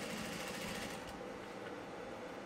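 A sewing machine stitches a blouse with a close, continuous whirring run of rapid needle strokes that hold steady throughout, with no speech.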